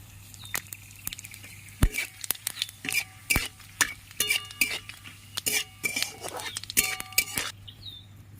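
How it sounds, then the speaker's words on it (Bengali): Whole garam masala, cumin seeds and dried red chillies tempering in hot oil for dhokar dalna, with repeated close spoon clinks and scrapes against the pan over a faint, steady sizzle and no voices. "গোটা গরম মশলা ফোড়ন দিয়ে দিচ্ছি গোটা জিরে ফোড়ন দিয়ে দিচ্ছি"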